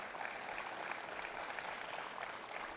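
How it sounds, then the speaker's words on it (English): Steady applause from an audience at a public event honoring an assembly member, a dense, even wash of clapping lasting throughout at moderate level with no voices on top. "let's give a round of applause to our assembly member, Scott Gray."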